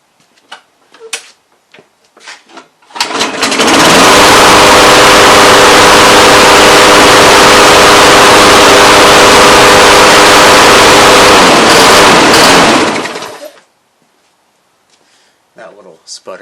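A Briggs & Stratton small engine fires up and runs for about ten seconds, a loud, close, continuous roar that stops abruptly, with faint handling noises before and after.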